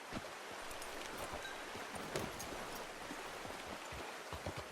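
Horse hooves clip-clopping in the western video game Red Dead Redemption 2, a soft irregular trot of hoofbeats over a steady hiss of outdoor ambience, moderately quiet with no talk.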